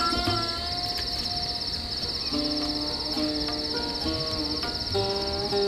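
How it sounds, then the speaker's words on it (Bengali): Crickets chirp in a forest at night, a continuous high, pulsing trill held steady for several seconds, with soft tonal background music underneath and no voices. "ঝিঝি পোকা ডাকছে।"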